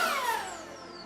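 A Tineco A10 cordless stick vacuum cleaner runs close by with a steady, fairly loud motor roar and a whining tone that slowly falls in pitch, and no one talks.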